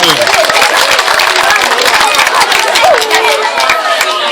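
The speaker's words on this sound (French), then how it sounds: "est-ce qu'on peut faire un tonnerre d'applaudissements alors pour Inès Takam?" A crowd of schoolmates at a back-to-school event claps and cheers for a classmate, a dense, loud wash of applause and crowd noise sustained throughout.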